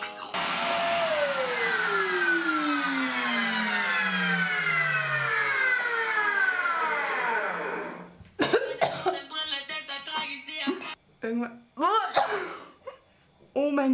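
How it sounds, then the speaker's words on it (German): A faulty household vacuum cleaner whines loudly, its motor tone sliding steadily downward as it winds down for about eight seconds. Scattered voices, coughing and rustling follow. "irgendwas stimmt mit diesem Staubsauger nicht"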